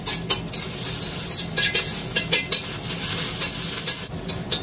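Onions stir-fried in a wok while seasoning it, a steady sizzle broken by rapid, regular scrapes and clinks of the spatula against the metal, close and busy throughout.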